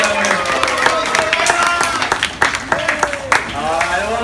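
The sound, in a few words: audience applause at dolphin show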